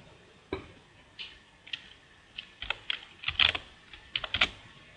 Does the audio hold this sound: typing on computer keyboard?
yes